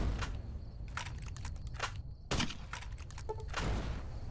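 Incendiary grenade launcher fired in the Fallout: New Vegas video game: several muffled thumping shots and bursts over a dense game background, with one sharp louder launch near the middle.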